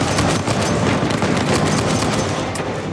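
Rapid bursts of gunfire from an unfamiliar weapon in the Uncharted 4 video game, dense and continuous, with repeated sharp shots running together across the whole clip.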